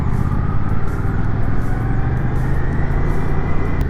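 Suzuki GSX-8S naked motorcycle engine while riding at low speed, a loud continuous rumble mixed with wind rush that stays steady throughout, with no talking.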